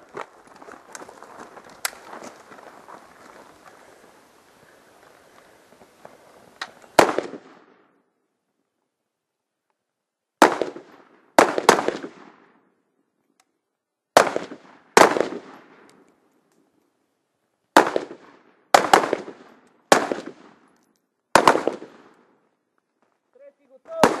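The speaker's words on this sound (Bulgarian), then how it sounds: "Пети изстрела от коляно!" Rifle shots crack out one at a time, loud and sharp, each trailing a brief echo, fired from kneeling in a Bulgarian commando-style shooting competition; a murmur of outdoor noise comes first, then about eight separate reports spaced a second or two apart.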